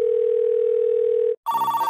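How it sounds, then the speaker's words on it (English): A single steady electronic telephone tone, then a brief gap and a different buzzing ring tone begins, clear and close. "It's ringing."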